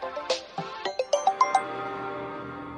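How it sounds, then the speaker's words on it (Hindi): A melodic phone ringtone, a run of bright chiming notes that step upward and then fade into a sustained tone, heard clearly with no one speaking over it. "बीच बीच में ये फोन आते रहते हैं।"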